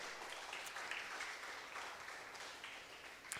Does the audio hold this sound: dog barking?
no